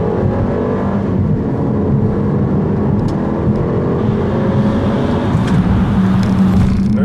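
A 2015 Mercedes-Benz GLA250 4MATIC with a turbocharged engine pulls hard in sport mode from a brake-torqued launch, a loud, steady engine drone with rising tone filling the whole stretch, no talk over it.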